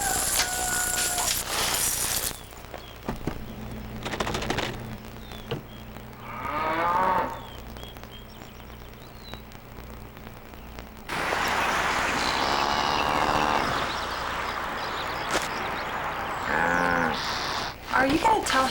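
A cow moos several times in short bursts between gaps, close and loud, with people talking around the calls.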